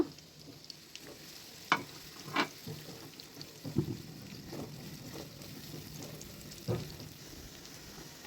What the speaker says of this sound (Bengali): প্রথমে কড়াইতে পরিমাণ মতো সরিষার তেল দিয়ে দিয়েছি এর মধ্যে আমি পেঁয়াজ কুচি দিয়ে দেব পরিমাণ মতো